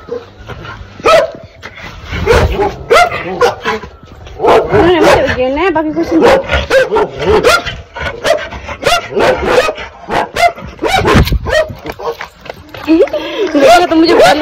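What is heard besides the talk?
guard dogs barking loudly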